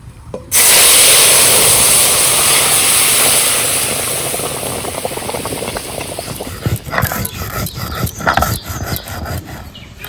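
Whole cumin seeds and bay leaf hit hot oil with a sudden loud sizzle that crackles steadily and slowly softens, with spitting pops toward the end.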